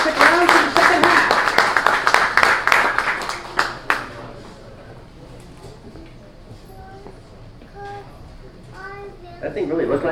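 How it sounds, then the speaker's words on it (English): Applause from a live comedy show audience breaks out loud and dense, with a few whoops, then fades after a few seconds into quiet room sound and scattered voices. "Give him a big round of applause, everybody."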